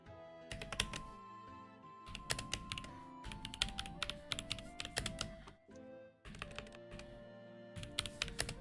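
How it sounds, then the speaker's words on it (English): Rapid typing on a computer keyboard, close and clear, with bursts of dense key clatter separated by short pauses, no voices. "This is going to be a little bit of typing from me"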